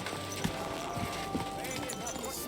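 A horse's hooves clip-clop at a steady walking pace in Kingdom Come, soft, rhythmic thuds sitting under people talking.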